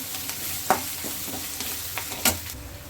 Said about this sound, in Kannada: ಈಗ ಸ್ವಲ್ಪ ಎಲ್ಲನೂ ಫ್ರೈ ಮಾಡ್ಕೋಬೇಕು